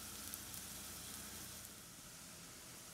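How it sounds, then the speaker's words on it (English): Peppers and onions sauté in oil, giving a faint, even hiss of frying that holds steady for a few seconds, close but quiet, with no talking. "So the peppers and onions have been sauteing in the oil for about 5 minutes or so"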